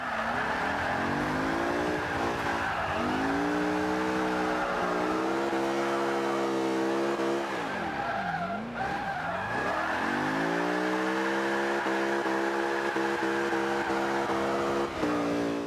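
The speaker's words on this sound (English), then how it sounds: "I can't believe we still managed to hold a drift through all that." A supercar in Forza 5 holds a long drift, with sustained tire squeal and a loud, revving engine that climbs and dips through gear changes. It plays continuously and close up, with no talk.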